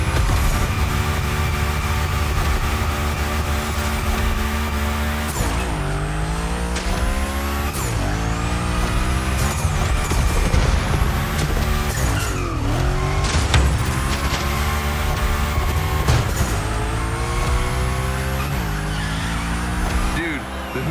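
Hoonigan car drifting in The Crew Motorfest video game: a loud, sustained engine roar with repeated rising and falling revs and squealing tires through a gymkhana course, continuous and close, with speech over it.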